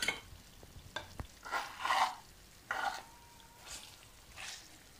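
Chicken and onions frying in a tajine pot, soft intermittent sizzling swells with a few scraping stirs and clinks, fairly quiet and close.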